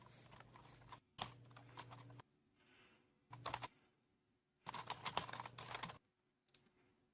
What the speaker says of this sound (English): Mechanical keyboard ASMR.